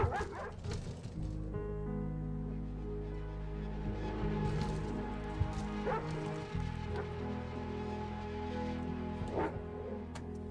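Dog barking and yipping in a dramatic TV series scene, several short barks and whimpers heard close over a steady low background tone.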